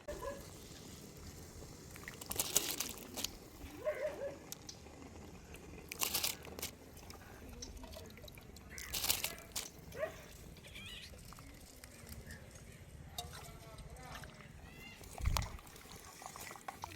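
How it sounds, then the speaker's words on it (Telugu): Soaked basmati rice poured into a pot of boiling water, heard as faint, quiet splashes and grainy rattles in scattered bursts, with occasional crinkling handling noises and no voices. "ఇప్పుడు బియ్యాన్ని ఇసుట్లో వేస్తాను."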